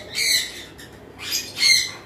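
Green Fischer's opaline lovebirds give three shrill, harsh squawks in quick bursts, close and fairly loud, with brief gaps between calls and no talking.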